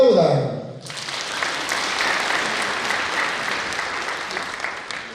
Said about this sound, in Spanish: Que aplaudan.